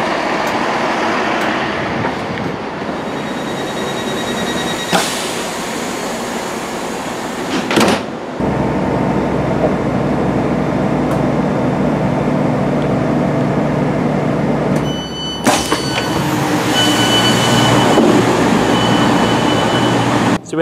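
Onboard a passenger train on the Reading to Basingstoke line, a steady rumble of wheels and carriage noise runs throughout, with abrupt shifts and clunks as the ride changes pace.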